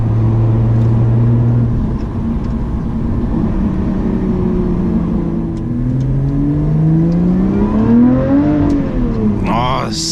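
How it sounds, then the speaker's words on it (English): Mid-mounted 400-horsepower V6 in a Lotus Evora 400 revs loudly and steadily, its pitch climbing and falling in a long sweep near the end, with a person talking over the engine note. "Oh, the sound from that V6"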